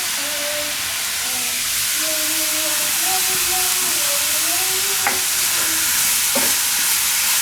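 Grated bottle gourd cooks in a hot pan, giving a steady loud sizzle and hiss of steam with occasional scraping stir strokes, close by and without talk.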